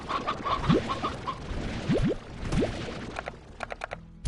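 Hens, roosters and elder hens in Slime Rancher cluck in short rising bursts, several calls spread across the scene, followed by a quick run of clicking taps like keyboard typing; no one talks.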